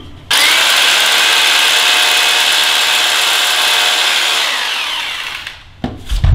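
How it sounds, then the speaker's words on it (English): A power drill runs loud and steady for several seconds, grinding into a concrete foundation, then winds down and stops with a few clunks. "I'm gonna drill some holes into the foundation"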